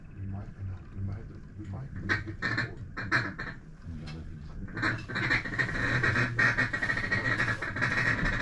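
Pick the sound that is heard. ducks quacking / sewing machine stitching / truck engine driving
ducks quacking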